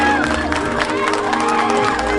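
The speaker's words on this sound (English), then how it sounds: "Give them a big round of applause out there." Wedding guests break into loud applause and cheering, a dense crowd roar of clapping and whoops that fills the whole short stretch, with voices shouting over it.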